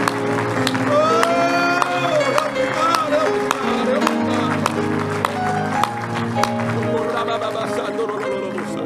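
A church congregation claps along in a steady rhythm under loud gospel music, with a voice calling out over the clapping.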